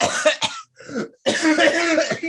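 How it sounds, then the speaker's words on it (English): Several sharp, close coughs come in quick bursts, with a short pause before a longer rough coughing fit. "Don't cough on my table."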